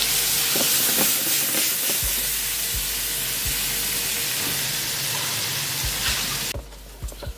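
Shrimp dropped into butter in a preheated pan, producing a loud, steady sizzle close by with a few soft knocks, before the frying noise drops sharply in the last second.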